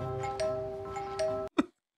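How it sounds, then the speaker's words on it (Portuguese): A doorbell rung by touching its wires together directly gives a steady electric buzzing tone with a couple of swells, then cuts off with a sharp click. "É assim que as pessoas têm que apertar a campainha."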